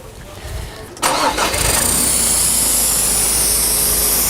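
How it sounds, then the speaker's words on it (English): A vehicle engine cranks and fires up to power an inflatable air jack, a short starter whir that catches into a loud, steady idle with a hissing exhaust rush, close by. "I'm ready to start the engine"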